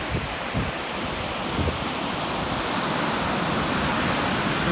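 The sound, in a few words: waves on an overcast beach at the Strait of Juan de Fuca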